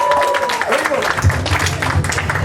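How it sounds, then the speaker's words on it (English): An audience claps at an evening event, the applause rising under a voice that is still talking over it. "Show your love with your hands, please. Applause."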